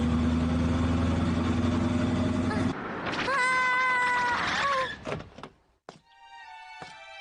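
A cartoon cat meows in a Hindi-dubbed Doraemon episode, a voice imitating a cat with a few rising, wavering cries after a loud musical opening, followed by sparse thuds and chimes.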